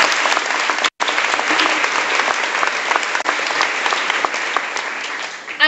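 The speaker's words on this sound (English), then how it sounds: "I'd like to start by giving Mr. Coulter and Molly another round of applause." A graduation audience claps in a sustained round of applause, dense and steady throughout with a brief dropout near the start.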